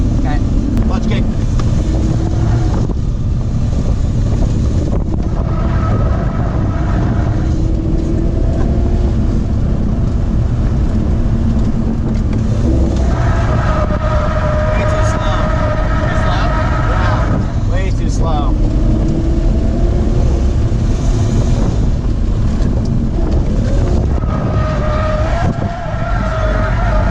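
A car engine revving hard on a race track through a clutch kick, a loud sustained roar with rising and falling pitch amid heavy wind buffeting, with people talking over it.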